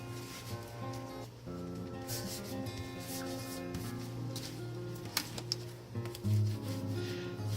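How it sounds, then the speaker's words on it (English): Bone folder rubbed back and forth over folded paper along a mini album spine, soft continuous scraping strokes, close and quiet, with faint tones in the background. "burnish with your bone folder. Gently burnish down that center part on your spine"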